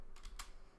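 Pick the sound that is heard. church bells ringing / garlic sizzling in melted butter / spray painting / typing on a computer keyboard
typing on a computer keyboard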